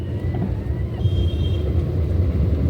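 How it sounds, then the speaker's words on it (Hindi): Heavy rain falls on a congested, jammed road as nearby traffic keeps up a loud, steady low rumble of engines throughout. "बरसात भी तेज़ हो गई और यहाँ ट्रैफिक जाम अलग"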